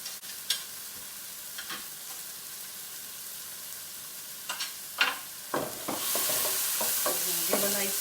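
Vegetable pasta with spinach being stirred in a pan: scattered clinks and scrapes of the spoon against the pan, then a steady, close sizzle of frying rising toward the end.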